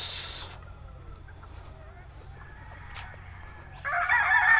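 Breeding gamefowl roosters crowing, one harsh crow at the start and another rising near the end, with a brief sharp call between, over steady farmyard background.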